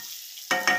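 Green tomatoes and brinjal frying in a pan for a village-style curry, two short bursts of sizzle after a quiet start, close and fairly loud with no talk.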